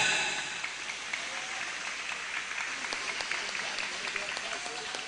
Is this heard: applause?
yes